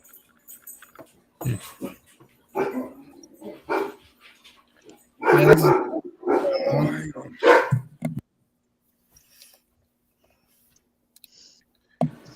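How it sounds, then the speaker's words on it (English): A dog barks in a few short bursts at a distance inside a home while people talk in the foreground, and the barking is partly covered by their voices. "the dog's barking"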